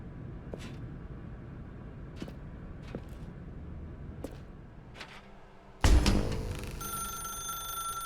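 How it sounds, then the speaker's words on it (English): A telephone rings in The Stanley Parable video game, a single loud ring bursting in near the end after a stretch of faint intermittent clicks and taps. "Now pick up the phone"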